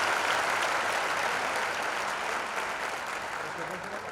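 A church congregation at a Christian jubilee gathering in rural Odisha claps steadily and loudly, a dense sustained wash of applause with some crowd voices mixed in.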